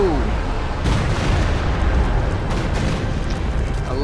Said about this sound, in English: I don't think that Stuka Barrage even got any kills, sadly